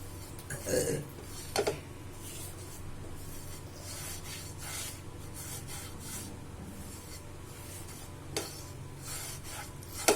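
Thirupagam sweet mixture stirred in a pan, giving soft scraping and rubbing that goes on continuously, with a few louder knocks and scrapes, while a person talks over it.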